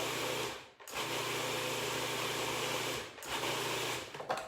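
A food processor pulses cilantro chimichurri in two bursts, each a steady motor whir lasting a few seconds, separated by a brief pause, with no talking over it.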